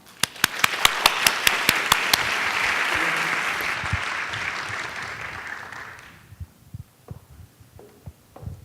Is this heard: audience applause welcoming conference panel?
yes